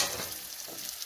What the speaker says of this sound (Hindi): इसको हम थोड़ा सा भून लेंगे।